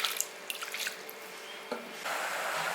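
Water pours into a pan of jaggery with a rushing, splashing sound after a few clinks and taps, fairly close and moderately quiet.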